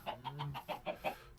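A chicken in the puzzle game Coop Life clucks in a quick rhythmic series of about seven short, close, evenly spaced clucks.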